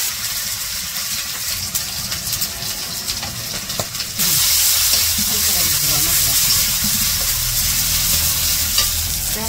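Prawns and ground spices sauté in a pan for a bottle gourd curry: soft stirring scrapes at first, then a sudden louder, steady hissing sizzle that continues to the end, close up.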